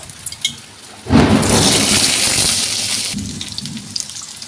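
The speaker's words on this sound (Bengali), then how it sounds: "খুব বিদ্যুৎ চমকাচ্ছে জানো ভিডিও করতে মানে ভয় লাগছে" A night thunderstorm: a sudden loud burst of heavy rain and rumbling thunder swells in and holds steady for about two seconds, then eases back to a softer background wash of rain.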